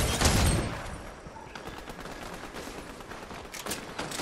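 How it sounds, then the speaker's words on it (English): Gunfire in the video game Fortnite, a dense burst of rapid shots loudest in the first half second, then continuing as quieter, scattered distant firing. "One is shooting at me."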